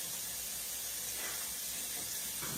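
Steady rushing hiss of tap water running continuously while hands are washed in a kitchen, close and unbroken with no talking.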